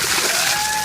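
Water splashes down in a single loud, continuous burst of pouring and sloshing during an ALS ice bucket challenge, close and alone.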